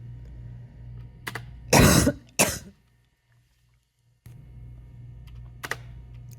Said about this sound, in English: triggering with the keyboard, pressing spacebar